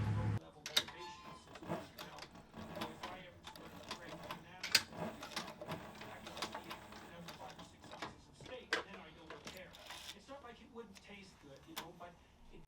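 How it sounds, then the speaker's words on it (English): A Cobra Class 4 sewing machine stitches a leather halter with heavy 207 thread, giving bursts of quick mechanical clatter and clicks separated by pauses, fairly faint and close, while a voice speaks over parts of it. "We're going to sew all of our stuff on a Cobra Class 4 sewing machine with a number 207 thread"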